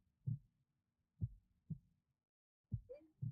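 A heartbeat effect in the visual novel REDLINE thumps softly and low in spaced beats, four or five pulses with a brief gap, alone in near silence.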